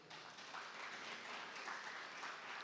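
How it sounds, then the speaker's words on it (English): A round of applause at an agriculture dialogue session, a steady, moderately quiet patter of clapping from a seated audience that continues evenly throughout. "Can I have a round of applause?"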